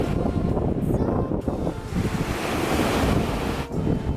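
Sea waves wash continuously onto a beach, a loud, steady surf roar mixed with wind buffeting the microphone, with no voices.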